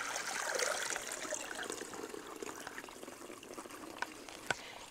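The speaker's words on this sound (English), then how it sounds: "Now I'm going to pour water" Water is poured into the top of a GreenStalk vertical planter filled with fresh potting soil, giving a steady splashing trickle at close range. A few drips sound near the end.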